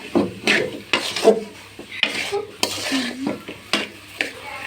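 Halwa with cashews and almonds is stirred in a pan, producing irregular scraping and knocking strokes of a spoon against the metal over a faint sizzle.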